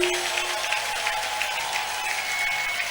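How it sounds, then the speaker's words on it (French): Church congregation applauding the Lord during a worship service, a steady wash of many hands clapping that continues throughout without pause, with no talk over it. "Acclame le Seigneur très fort."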